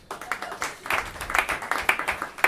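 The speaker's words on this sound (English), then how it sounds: "Round of applause if you've been to one of those places." Scattered applause and clapping from a comedy club audience, irregular bursts of hand claps rising and falling over a couple of seconds without any clear speech.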